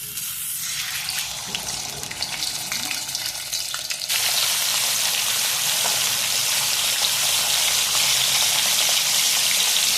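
Fish fries in a pan with a constant sizzling hiss that becomes suddenly louder and brighter partway through and then holds steady, with no voices.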